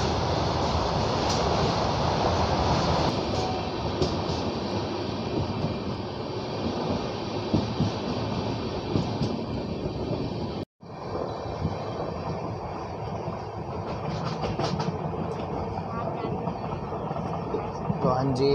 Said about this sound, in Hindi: वहाँ से जा रही फ्राइट ट्रेन